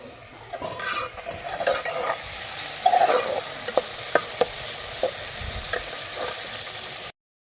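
Onions browning in hot ghee in a pan, with a steady close sizzle and occasional scraping stirs, heard alone with no talk.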